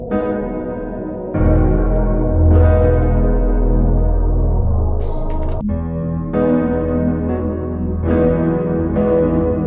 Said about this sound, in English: We'll just bring that reverb a little higher.